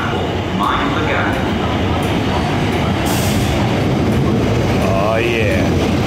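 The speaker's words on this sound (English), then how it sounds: "There's simply not enough shots of trains arriving at stations." Train pulling into a station platform, a steady loud rumble with faint metallic squeals, continuous throughout with a voice speaking briefly over it.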